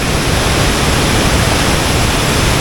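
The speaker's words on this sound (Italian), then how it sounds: "Questo è il fiume è il fiume di Sala che si incanala nel cul-de-sac." The Sala river in Albania rushes as it funnels into a narrow gorge, a loud, dense, unbroken roar of flowing water filling the whole clip with no voices.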